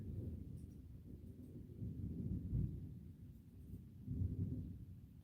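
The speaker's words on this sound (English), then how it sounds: "Listen to that thunder, Smooshy." Low, distant rumbling thunder rolling in slow swells, soft and muffled with no voices.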